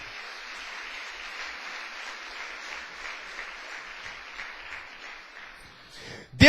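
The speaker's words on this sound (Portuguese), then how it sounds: "Agora você pode dar uma salva de palmas para o Senhor." A church congregation claps steadily in a dense, moderately distant wash of applause that holds evenly before a sudden louder burst at the very end.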